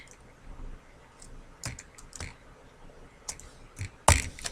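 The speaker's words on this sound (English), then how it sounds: "Let's type in the code at the very top of page" Sparse keystrokes on a computer keyboard while code is typed, faint, irregular clicks with a louder clack of keys near the end, no voices.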